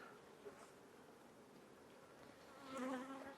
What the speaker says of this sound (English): That's where all the bees are.